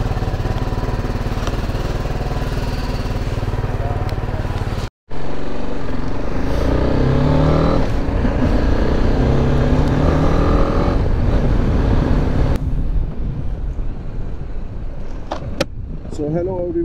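A BMW motorcycle idling and revving at the start of a solo ride toward Nainital, a steady close engine drone that briefly cuts out and resumes, with someone talking over it.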